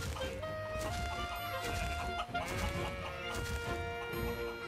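Chickens cluck and cackle repeatedly in the video game Baldo, a busy stream of fowl calls layered over steady game music, with no talking.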